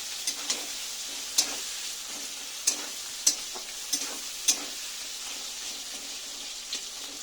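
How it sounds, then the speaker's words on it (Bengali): Onions and green chilies, with prawns, fry lightly in a pan, giving a soft continuous sizzle broken by several sharp clicks of a utensil stirring against the pan. "আর কাঁচামরিচ দিয়ে এর সঙ্গে ভালোভাবে ভেজে নেব, হালকা ভাজবো"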